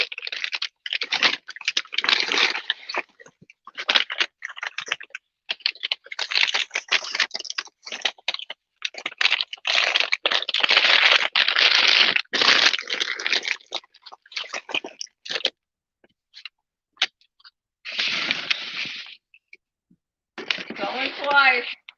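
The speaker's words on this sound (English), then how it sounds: "You'll hear me rambling around a little bit of paper. I'm going to try to put a few things in paper." Paper crinkles and rustles in close, loud, irregular bursts as collectible items are wrapped for shipping after a live auction, with brief pauses between handfuls.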